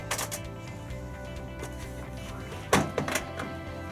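The electric door of an AEG 645 Sensortronic washing machine releases with a motorised whir followed by a sharp mechanical clunk of the latch and a couple of smaller knocks, close and brief.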